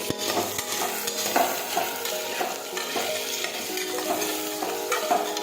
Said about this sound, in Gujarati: હવે આપણે સાતળી લઈશું.